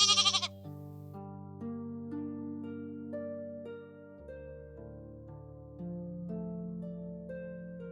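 A goat bleats in a rural setting with a few short, wavering calls that stand out clearly over a quiet background, with no talk.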